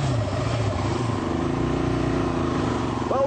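A Honda quad bike's single-cylinder 450cc engine runs loud and close, holding a steady throbbing drone with slight swells in pitch and no voices over it.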